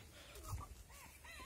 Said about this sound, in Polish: a ten biały tam pieje